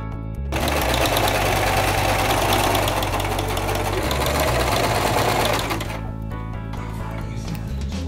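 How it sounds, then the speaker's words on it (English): A sewing machine stitching corduroy pant back panels together, running in a steady loud mechanical whir for about five seconds before it slows and stops, then a lower hum. "So now I've gone ahead and sewn up the back panels together."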